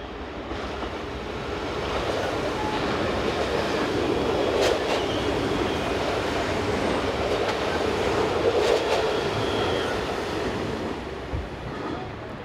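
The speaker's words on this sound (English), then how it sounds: "Heading north are a pair of Class 2200 units, numbers 12 and 10, working the 1015 from Luxembourg to Troisvierges." Two Class 2200 electric multiple units run as a pair on the Luxembourg to Troisvierges line, passing with a sustained rolling rumble and occasional wheel clicks that swell and hold for several seconds, with no voices.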